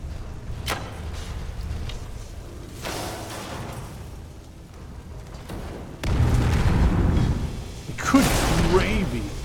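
Explosions in the video game Skyrim, with a few booming blasts and whooshing bursts, the biggest arriving near the end, set among game effects and someone talking.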